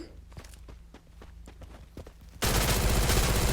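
In the mobile shooter Free Fire, a sequence of quiet footstep-like taps gives way to a loud burst of sustained automatic gunfire that fills the last second or so. A voice speaks faintly in the background.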